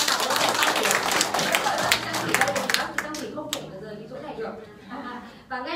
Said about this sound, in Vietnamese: chúng ta xin một tràng vỗ tay nữa cho Thảo Luân